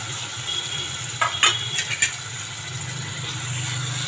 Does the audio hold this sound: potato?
yes